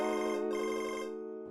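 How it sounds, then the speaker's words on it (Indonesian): A mobile phone rings with a steady electronic ringtone, a sustained tonal melody that holds loud and clear, then fades slightly near the end, with no voices over it. "Nah, tuh ada suara handphone tuh."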